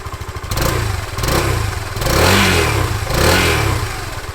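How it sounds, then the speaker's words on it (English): A 200cc Suzuki VanVan motorcycle fitted with a custom stainless steel exhaust revs in several rising surges from a rumbling idle. The exhaust note is loud and close but fairly mellow. "pretty mellow sound for an exhaust pipe."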